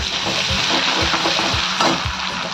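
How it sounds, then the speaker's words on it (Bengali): Ginger garlic paste frying in oil in a pan for chilli chicken, a constant close crackling sizzle with soft rhythmic scraping as it is stirred, no voices. "এক চামচ হচ্ছে একটু কম আদা রসুন বাটা, একটু এটাকে ভেজে নেব।"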